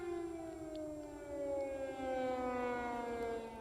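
Air raid sirens wailing over Kyiv, a long descending howl with layered harmonics, distant and sustained, rising slightly in loudness midway, with no voices.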